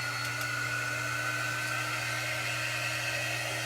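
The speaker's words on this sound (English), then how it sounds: "so let's hit it with our dryer real quick." A hair dryer blows steadily at close range, a constant whooshing roar with a low motor hum, running alone without talk.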